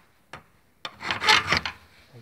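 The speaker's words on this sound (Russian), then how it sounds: "Пробуем напильником." A hand file rasps across a Daewoo Sens flywheel ring gear: a couple of brief initial scrapes, then a quick burst of close, gritty strokes.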